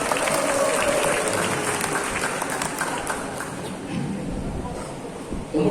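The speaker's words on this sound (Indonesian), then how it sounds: "Tepuk tangan untuk PT Medem." An audience applauds at a university training event held with PT Mendom, steady dense clapping sustained for several seconds, fairly loud and close, with a murmur of crowd underneath.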